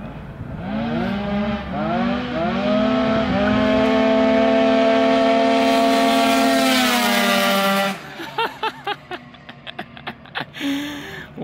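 Tuned 100cc and 70cc scooters race, their engines screaming upward through several quick shifts into a sustained high wail, then cutting off into sharp intermittent pops and revs.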